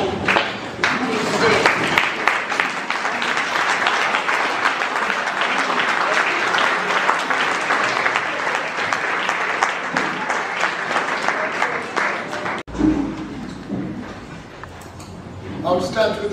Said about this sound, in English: will you all rise and give a big round of applause to